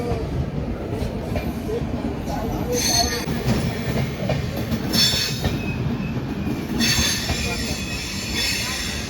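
A train rumbles close by at Varanasi Junction railway station, with screeching wheel squeals and clattering metal, loud and continuous.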